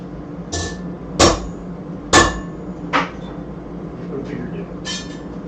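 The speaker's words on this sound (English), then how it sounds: "hammer" A hammer strikes a metal punch while marking the center of a Christmas bell, giving four sharp, ringing metallic hits at uneven intervals, with two of them loudest, followed by faint clinks and a light tap.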